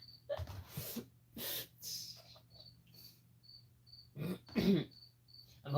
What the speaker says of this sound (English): until my male crickets die, it's gonna be cricket stream every time